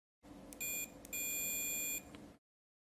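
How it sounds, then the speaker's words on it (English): A multimeter set to continuity, testing a soldering iron tool: two short electronic beeps followed by a longer, steady tone of almost a second, all fairly quiet and close. "Set the multimeter to continuity."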